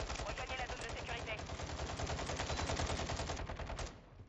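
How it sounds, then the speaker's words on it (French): Rapid automatic gunfire from the shooter game Warzone rattles in a fast, steady burst of shots that stops abruptly near the end, leaving quiet. "Mais il est déjà en train de tirer sur tout le monde."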